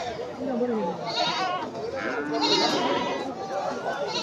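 A large crossbred Ram goat bleats a few times amid a busy crowd of talking voices at the Gomgram livestock market, the calls partly buried under the chatter.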